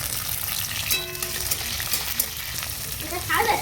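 Tomato pieces fry in a hot pan with a steady, moderate sizzle and occasional stirring scrapes, the crackle swelling briefly near the end.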